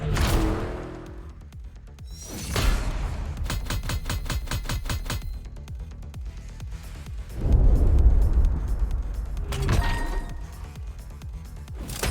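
Car driving in The Crew Motorfest during a Gymkhana event, with bursts of engine revving and rhythmic rev-limiter stutter, tire skids and a sudden crash-like hit, loud and changing throughout.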